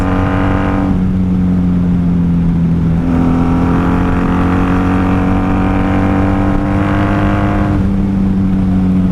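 A 1994 Honda Magna VF750C motorcycle engine revs hard at high RPM, the steady droning pitch rising and falling across repeated throttle pulls, loud and close with continuous wind rush behind it.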